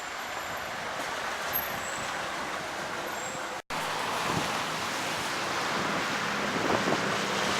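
Brownish waves roll in at the mouth of the Rio de la Plata on the Montevideo shore, a broad steady wash of surf mixed with heavy wind buffeting the microphone, with one brief dropout midway.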